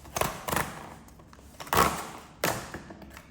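An M2 MacBook Air box is opened by hand, producing a few faint, scattered cardboard thumps, taps and scrapes with quiet pauses between them and no talk.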